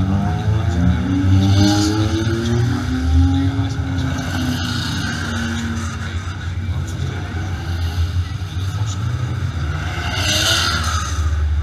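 BMW CSL race cars at a race start, a steady, loud engine roar with rising and falling revs as cars accelerate away, heard under a commentator speaking.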